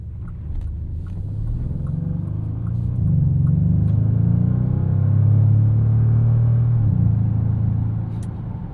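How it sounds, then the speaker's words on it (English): Bentley Continental GT S V8 coupe in sport mode with its 8-speed dual clutch, a steady deep low exhaust burble and rumble heard from inside the car, swelling slightly louder mid-clip before easing off, with no talking. "You've got some beautiful burbles from this exhaust"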